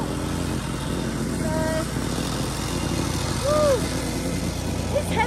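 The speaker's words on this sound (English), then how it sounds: "got the whacker plate out" A whacker plate compacting gravel during levelling work, a loud, steady engine drone with rattling vibration that continues throughout, close by, with a brief voice partway through.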